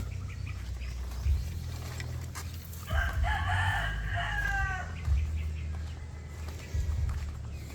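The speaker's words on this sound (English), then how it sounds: "Lots of chickens." A flock of chickens clucking and murmuring outdoors, with a rooster letting out one clear crow near the middle, moderately close over low background rumble.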